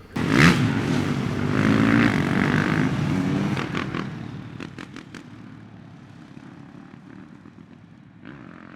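A motorcycle on a winding mountain road on the Great Alpine Road in the rain rumbles loudly up close for a few seconds, then its engine note fades and drops to a quieter, more distant hum.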